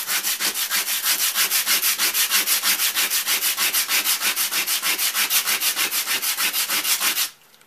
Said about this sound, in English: Now this is 120 grit sandpaper, so it's giving it a nice fine smooth finish as I sand it down